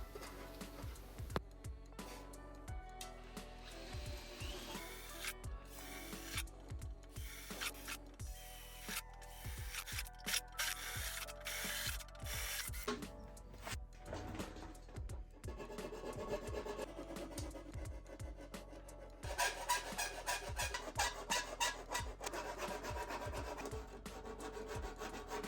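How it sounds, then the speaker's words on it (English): Steady rasping strokes of a hand file on metal, filing out detail on a riveted part, repeated in a quick back-and-forth rhythm, close up with no talking. "and then file out all of the detail."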